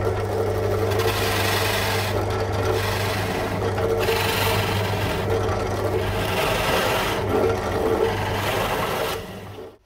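A Forstner bit bores holes in wood for a DIY prosecco and doughnut wall, a steady loud grinding drone held nearly ten seconds with slight surges as the cutter bites, stopping abruptly at the end.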